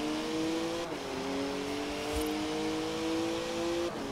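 An Audi four-cylinder car engine in the racing game Forza Horizon 4 holds a steady, droning rev, dipping briefly at a shift before climbing again, with the engine tone constant throughout.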